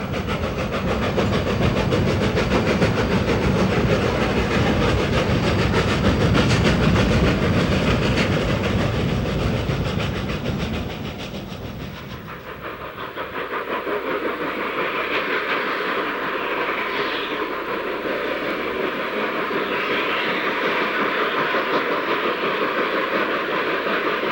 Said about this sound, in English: the train begins its final assault on the summit